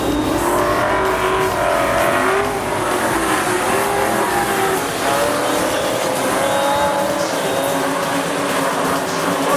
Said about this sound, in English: Tony Curd will lead away the field in car number 90.